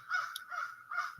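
A crow caws three times in a quick, evenly spaced series of harsh, nasal calls, fairly close and clear with no talk over them.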